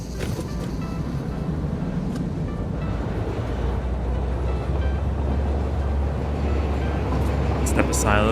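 A train running in the Satisfactory factory-building video game produces a steady, continuous low rumble and rolling drone throughout, with a few lighter clanks and a brief higher clatter near the end.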